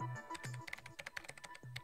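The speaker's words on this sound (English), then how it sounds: "Sasaka returned to his seat and started typing on his keyboard" Computer keyboard typing rendered as a video game sound effect, a quick run of crisp clicky keystrokes mixed with short synthetic blips and tones, close and steady.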